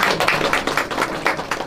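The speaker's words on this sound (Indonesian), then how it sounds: "Boleh tepuk tangan?" Audience applause at a Bhayangkara Day police anniversary gathering in Magelang, Indonesia, a steady broadband patter of many hands clapping throughout, fairly loud and close, with no speech over it.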